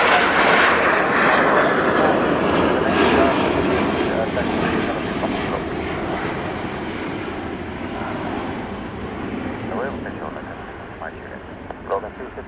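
A Gulfstream jet takes off on a full-length run at Dublin Airport, a loud, steady engine roar that slowly fades as it climbs away, with faint talk underneath.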